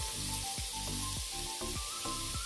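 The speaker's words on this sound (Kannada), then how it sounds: "ಈರುಳ್ಳಿ, ತರಕಾರಿ ಎಲ್ಲ ಸ್ವಲ್ಪ ಫ್ರೈ ಆಗಿಬಿಟ್ರೆ ನೀಟಾಗಿರುತ್ತೆ." Onions and vegetables fry in a pan for vermicelli uppittu. A soft, continuous sizzle runs throughout, with repeated short, gliding tonal sweeps about every half second.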